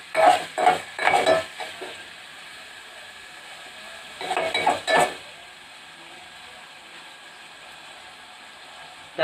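Onions fry in a pan for mutton curry, stirred in two bursts of scraping and clinking utensil strokes against metal, then a soft steady sizzle carries on alone.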